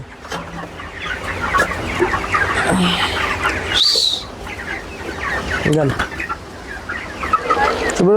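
A flock of broiler chickens on a farm clucks busily and continuously at feeding time on fermented maize, close by, with occasional wing flaps.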